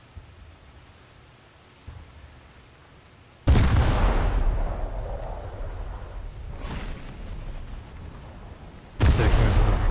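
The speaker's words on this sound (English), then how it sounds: "Taking us under fire, so let's return the favor." Heavy naval guns boom in a warship combat video game, two loud broadband blasts that rumble on and fade, following a quieter stretch of engine and sea noise.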